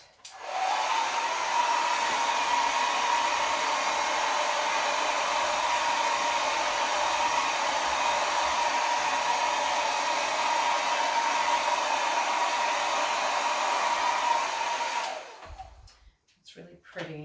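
Hair dryer blowing over wet acrylic pour paint: a steady, loud, continuous whoosh that runs nearly unbroken for about fifteen seconds, then cuts off abruptly and leaves brief quiet handling noises.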